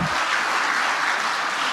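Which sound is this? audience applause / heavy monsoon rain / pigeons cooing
audience applause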